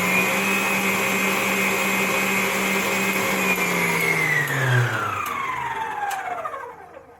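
A Klarstein kitchen stand mixer whirs with a steady high motor whine at high speed, then slows and winds down, the pitch dropping as it stops.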